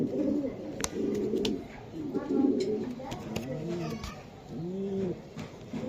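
Racer pigeons coo in a low, repeated rumbling at close range, with someone speaking intermittently over them.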